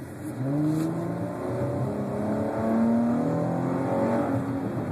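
A 2011 Dodge Challenger with a V6 engine accelerates hard, its engine note rising steadily in pitch under a continuous roar of wind and road noise for the whole stretch.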